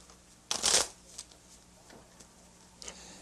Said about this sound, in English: the shuffling of blackjack cards